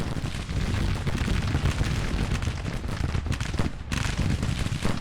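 Dense, continuous booming of artillery and musket fire in a Civil War strategy video game, with canister fired into a flank, rumbling volleys overlapping without pause and no talk.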